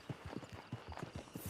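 Horse hooves clip-clopping in the video game Red Dead Online, a brisk, steady run of close, distinct hoofbeats with no talk.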